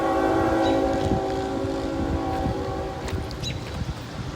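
A northbound train rumbles past nearby with a steady low roar and ringing harmonic tones, its rolling noise fading slightly toward the end.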